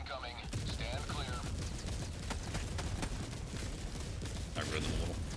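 An orbital barrage in the video game Helldivers pounds away as a continuous, dense rumble of rapid blasts and crackling detonations, loud and sustained throughout.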